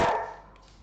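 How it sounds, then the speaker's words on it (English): A dog barks once, loud and sharp, in a home kitchen during cooking, then the sound quickly fades to quiet room tone. "You can hear him barking in the background."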